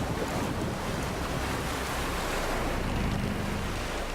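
Stormy sea during sailing in The Witcher 3, a continuous roar of surf and buffeting wind, loud and enveloping with no pauses and no voices.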